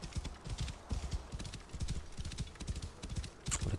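Rhythmic clip-clop of horse hooves at a steady walking pace in Assassin's Creed Origins, fairly close and alone, with a brief snort near the end.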